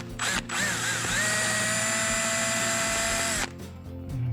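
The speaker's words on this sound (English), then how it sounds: "So now I drilled out the old seal, or drilled the old seal out of this cup." Power drill boring an old valve seal out of its cup on a Predator 212 mini bike engine, a steady high whine running about three seconds after a brief start, close and loud, with no talk.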